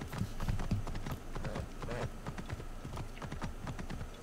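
Horse hooves clip-clop in a steady, fairly loud trotting rhythm while riding in the Assassin's Creed Origins video game, with no talking over them.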